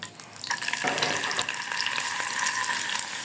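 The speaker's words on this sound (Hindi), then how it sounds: "पनीर को हम इस तरह से फ्राई कर लेंगे" Homemade paneer pieces fry in a pan, giving a continuous bright sizzling hiss with scattered crackles and occasional stirring, close and steady with no talk.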